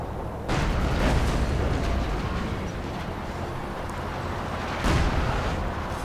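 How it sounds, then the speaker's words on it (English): Artillery fire and explosions from the video game Company of Heroes 2 boom in a dense, continuous barrage, with two louder blasts near the start and again toward the end, and no voices over them. "Artillery flying in here."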